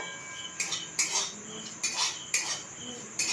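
Semolina stirred while dry roasting in a pan, heard as a series of distinct scraping strokes of a metal spoon, about six, spaced irregularly and fairly close.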